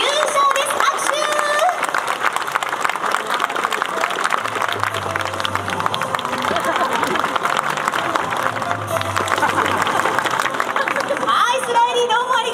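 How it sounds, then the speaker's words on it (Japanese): Stadium crowd applause and cheering for a winner announced at a Hiroshima Toyo Carp versus Chiba Lotte Marines baseball game, dense steady crowd noise for the whole stretch. "拍手"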